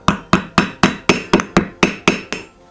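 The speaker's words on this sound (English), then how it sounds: "And just hammer it down." A hammer strikes a thumbtack ten times in a steady, even rhythm, each blow a sharp, close metallic knock with a short ringing decay and no voices.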